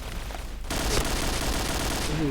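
Rapid gunfire in the online shooter Point Blank, a dense sustained burst of shots that starts abruptly and keeps rattling, with someone talking over it.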